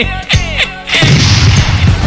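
A firecracker bomb blasts as a sound effect in a radio trailer, a loud crashing boom that bursts after a brief lead-in and rumbles on noisily to the end.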